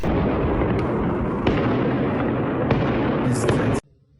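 Loud New Year's Eve fireworks crackle and boom in a dense, continuous barrage with sharp pops, then cut off abruptly into silence.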